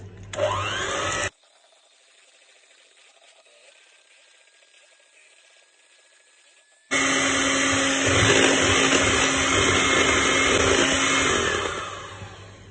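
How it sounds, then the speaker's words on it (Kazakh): An electric hand mixer whirs loudly through cake batter for cupcakes, cutting off abruptly to near silence and then starting again with a strong, steady motor whine that tapers at the end. "Осы қосылған ингредиенттердің бәрін қазір миксермен араластырып шығамыз."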